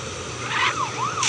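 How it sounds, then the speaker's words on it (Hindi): Police car siren in the Rope Hero video game, a rising and falling electronic wail sweeping up and down over a steady background hum, fairly close and clear. "पुलिस आ गई"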